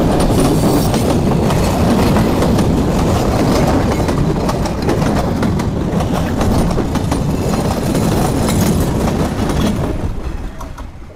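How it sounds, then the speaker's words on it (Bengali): The Khulna-bound Rupsha Express intercity train pulls out of Ahsanganj old railway station, its wheels rolling past loud and close in a continuous clickety-clack that eases off at the end. "আমাদেরকে বসিয়ে রেখে চলে যাচ্ছে খুলনা অভিমুখী আন্তনগর রূপসা এক্সপ্রেস"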